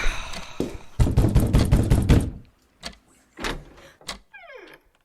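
Knocking on a door in an old radio drama, a burst of rapid loud raps followed by a few sparser single knocks, with brief quiet gaps and a short rising tone at the end.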